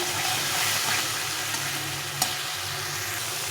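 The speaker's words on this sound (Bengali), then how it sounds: "সব মশলাগুলোকে ভালো করে কষিয়ে নিতে হবে" Spices and tomato paste sizzle and fry in oil for an egg curry, a steady close hiss with faint stirring and one brief clink of a utensil.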